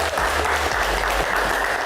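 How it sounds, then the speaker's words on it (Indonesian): Audience applause on an evening Indonesian Q&A talk show about children and parents, dense steady clapping filling the room at even loudness throughout, with no voices over it. "Kita berikan tepuk tangan dulu malam ini"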